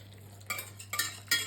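Egg, sugar, milk and honey mixture for gingerbread whisked briskly in a bowl, a few soft scraping strokes and clinks close by over a low steady hum.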